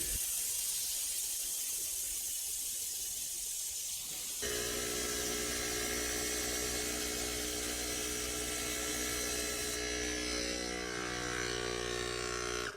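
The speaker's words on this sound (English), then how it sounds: "I can also spray a bit further over here" A foam sprayer, an IK eFoam Pro, gives a continuous hissing spray for the whole stretch, shifting in tone partway through, with a steady mechanical whine beneath it.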